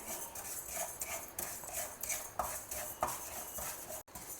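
A spoon scrapes and stirs yellow moong dal as it dry-roasts in a pan, soft repeated scraping strokes with light clinks, close and quiet, with no voices.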